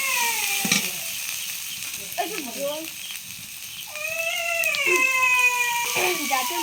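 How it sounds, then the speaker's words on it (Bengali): Masala spice paste frying and being stirred in a pan while cooking meat, a steady soft sizzle running throughout, with prominent high tonal sounds over it that may be voices. "মশলাটা ভালো করে কষিয়ে নিতে হবে"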